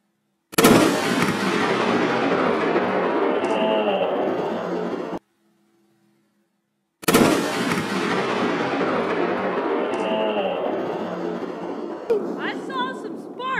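Gunfire striking a Del Ton AR-15 rifle bursts out loud and close twice, each impact followed by a long rumbling, crackling decay, with a short silent gap between them and some scattered clatter near the end.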